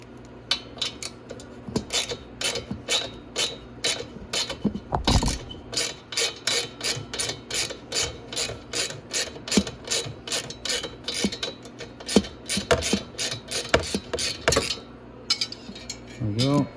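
Ratchet clicking steadily as a 10 mm bolt is loosened from the muffler of a Grizzly ATV, a fast close-up run of metallic clicks with a few clanks of tools and parts, under low background noise.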